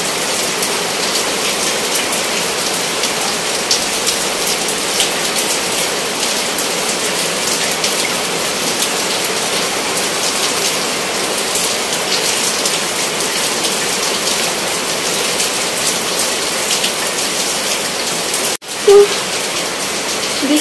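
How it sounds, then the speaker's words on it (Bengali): Torrential monsoon rain pours down without pause, a steady dense roar of drops on surfaces close by, broken only by a brief knock near the end. "বৃষ্টির আওয়াজে আপনারা আমার কথা কতটুকু শুনতে পাবেন জানি না"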